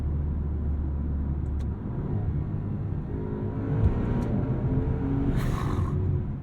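A 2023 Maserati Ghibli Trofeo with a crossplane V8 gives a deep, steady low rumble while driving, with the engine note swelling slightly partway through.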